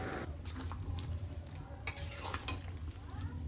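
Fried bitter gourd being stirred into mixed vegetables in a pan while cooking Bengali sukto: soft scraping and clinking of a spatula against the pan over a low sizzle, steady throughout.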